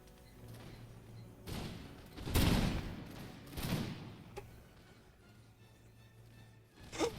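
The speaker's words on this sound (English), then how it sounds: "Now let's focus ourselves in the skirmish, in the firefight here." Musket volleys crackle in a battlefield skirmish in Empire Total War, a few muffled bursts and thuds rising and fading over a low steady background, without talk.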